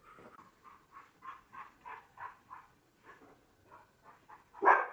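Dogs barking indoors in a rapid series of short, fairly faint yaps and woofs that pause briefly, then end in one sharper, louder bark, with no talk during the barking.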